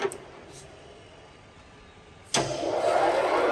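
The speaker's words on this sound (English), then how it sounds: "Working a spindle at its maximum speed, that is 2000 rotations per minute" A SIP MP-3K jig boring machine hums quietly and steadily, then abruptly steps up to a louder, brighter whir as the spindle reaches its maximum 2000 rpm, holding steady afterward.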